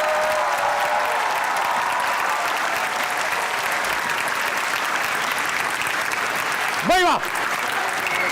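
An interview audience applauds steadily as two guests are welcomed, with dense, loud clapping filling the clip and a man's brief exclamation near the end.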